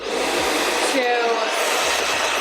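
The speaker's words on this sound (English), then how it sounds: "I'm going to use the cool setting on my blow dryer" A handheld blow dryer runs on its cool setting during a salon blow-dry, giving a steady, close, loud broadband whoosh throughout, with a brief whine partway through and faint voice-like traces beneath.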